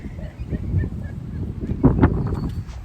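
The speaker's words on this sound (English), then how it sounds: "See the seagulls having fun." Seagulls call at the water's edge in a park, heard from a rock on the shore: a short burst of a few harsh, honking cries near the middle, moderately close over steady outdoor background noise.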